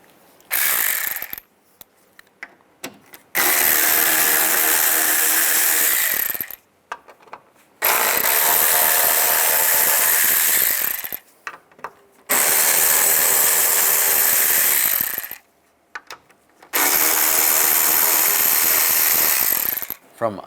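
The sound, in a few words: ratchet with T20 socket removing fog light panel screws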